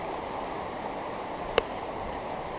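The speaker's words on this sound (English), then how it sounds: "This is a creek. It's a pretty epic creek." Water flowing along a creek at a park, a steady broadband rush with an even level throughout and one sharp click near the middle; no talking.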